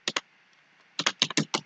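A computer keyboard types a terminal command in two quick keystrokes, a pause, then a run of five or six crisp, close taps.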